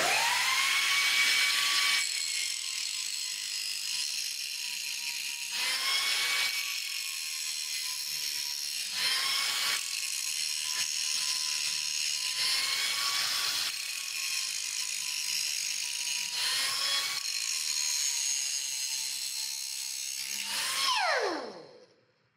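A Universal Tool angle grinder runs at full speed with a high, steady whine, loud and close. Its pitch dips briefly every few seconds as the load changes, and it spins down at the end.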